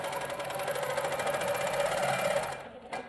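A sewing machine stitching in precision mode with Glide, Superior or Wonderfil thread, a steady fast whirring hum running continuously for a few seconds before stopping abruptly, close and moderately quiet.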